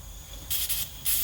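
Water squirts from the emitters of a garden drip irrigation system in two short hissing spurts that follow a quiet stretch, close and fairly soft.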